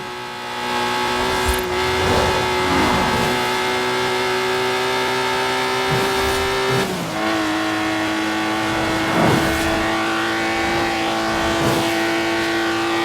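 An Exige sports car engine drives in Forza Horizon 4 with a loud, sustained, buzzy drone. Its pitch swells and dips, with a shift in tone around the middle. No one speaks.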